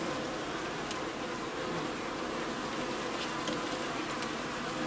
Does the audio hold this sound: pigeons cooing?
no